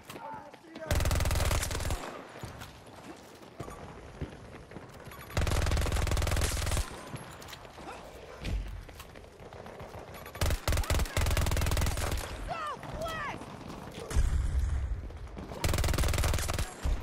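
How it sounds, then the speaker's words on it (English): SMG gunfire in the video game Battlefield 2042 rattles in several loud, sustained automatic bursts separated by pauses, with a player talking in between. "God damn these SMGs,"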